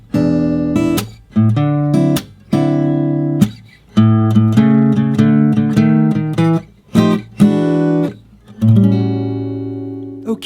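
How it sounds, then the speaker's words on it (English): A blues walk-up turnaround riff in A on guitar, a run of picked notes and chord stabs in an uneven phrased rhythm, fairly close, ending on a held chord. A voice may be present between phrases. "Example number 1 is a very common walk-up riff"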